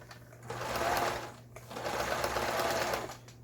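A Yamata FY812 household sewing machine runs a zigzag stitch in two steady, close bursts of rapid mechanical chatter, separated by a brief pause.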